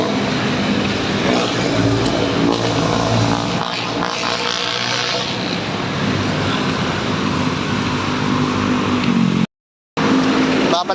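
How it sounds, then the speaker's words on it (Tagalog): Steady city traffic on Commonwealth in Quezon City, a continuous roar of cars and engines with passing vehicles, loud and close throughout, broken by a brief dropout near the end, on a rainy morning. "Traffic dito po sa Quezon City"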